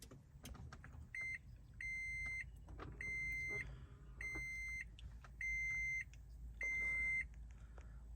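A 2014 Toyota Prius powering up: a run of six evenly spaced electronic chimes, each lasting under a second, sounds over a low, quiet cabin hum, with a few soft clicks in between.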